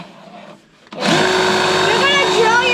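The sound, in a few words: power drill drilling hole in cabinet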